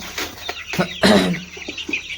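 Young poultry chicks at a hatchery that ships day-old and older birds give a string of short, close clucks and peeps, with one louder burst in the middle.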